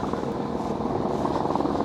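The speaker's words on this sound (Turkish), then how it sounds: "Havada da helikopter var." A helicopter flies low overhead as it comes in to land, a steady moderately loud rotor rumble heard from a street during an electric bicycle ride.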